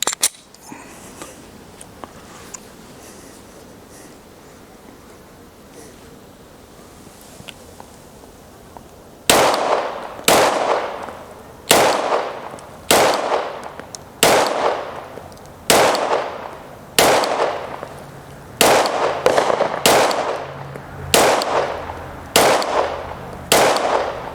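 Gunshots from a PSA Dagger pistol loaded with a 32-round Glock magazine, fired outdoors: after a quiet stretch, a steady string of about eleven loud, sharp reports at a measured pace, each followed by a short echoing decay.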